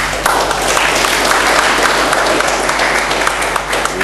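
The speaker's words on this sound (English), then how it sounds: "I've never understood clapping" Audience applause after a lecture introduction on teaching, steady, dense clapping from a large hall crowd, even in loudness throughout, with no voices over it.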